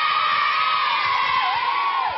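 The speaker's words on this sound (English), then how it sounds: "Big cheer." A studio audience at a music quiz show cheers and whoops loudly and steadily, a dense wall of crowd noise that never breaks.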